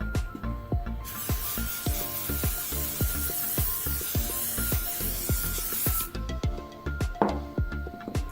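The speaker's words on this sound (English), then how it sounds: "This is mold release. I'm just going to spray it on top of the plastic part." Mold release sprayed from an aerosol can onto a plastic DeLorean HVAC panel part, a long continuous close hiss of about five seconds amid clicks and handling knocks.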